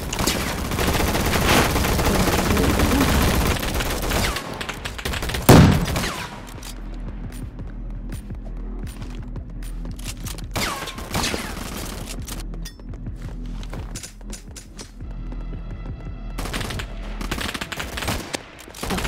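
Pistol fire crackles in a Roblox gunfight arena game, starting with dense rapid bursts and a loud boom, then continuing as scattered sharp shots and mechanical clicks.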